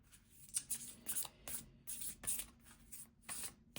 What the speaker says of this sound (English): we are going to shuffle you. This is a very new deck for me